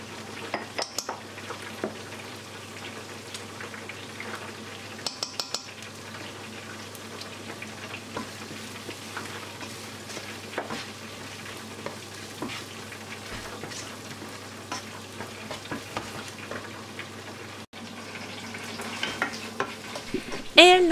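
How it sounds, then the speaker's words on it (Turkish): Meat frying with butter in a pan, a steady low sizzle under repeated scraping and stirring of a utensil against the pan, with occasional clinks, close and without talk. "yaklaşık bir yemek kaşığı kadar tereyağını ilave ediyoruz. Tereyağını da devam kavuruyoruz."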